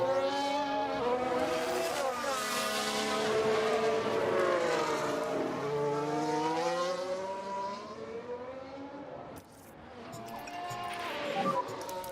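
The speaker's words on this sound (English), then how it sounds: "We've got cars starting to pit again." Racing cars in the F1 Manager video game at the Singapore Grand Prix: loud, high engine whines rise and fall as cars sweep past, with layered engine notes overlapping throughout.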